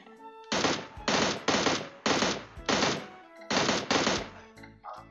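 Automatic gunfire in PUBG Mobile's zombie mode comes as six loud, close bursts of rapid shots, each about half a second long and separated by short pauses.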